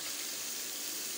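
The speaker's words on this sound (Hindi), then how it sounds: "इसमें हम थोड़ा सा पानी डाल देंगे ताकि मसाला जो हमारा है वो नीचे ना लगे" Water steadily poured into curry masala in a pan for mutton kofta curry, a continuous close hissing pour with no talk.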